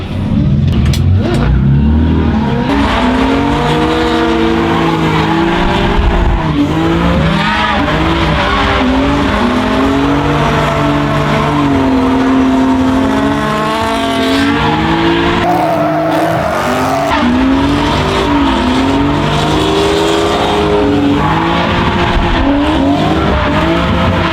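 A BMW slides sideways in a long drift with loud, continuous engine revving that rises and falls, layered over sustained tire squeal and skidding throughout.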